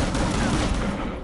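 Dense burst of gunfire from a shooter video game, loud and close, a rapid volley of overlapping shots filling the whole moment with no pause.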